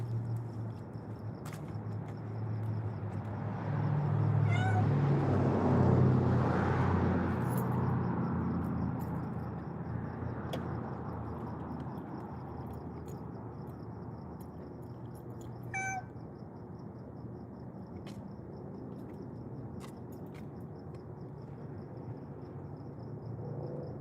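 Cats meow faintly a few times at scattered moments, somewhat distant, over a steady hiss of background noise.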